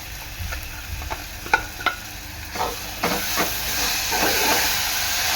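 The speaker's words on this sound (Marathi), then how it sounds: "वाटण चांगलं तेलात परतून घ्यायचं आहे" Ground paste of ginger, garlic, green chilli, coriander, coconut and peanuts fries in hot oil for a drumstick and potato curry, a steady close sizzle broken by a few sharp spatula scrapes and stirs, growing louder toward the end.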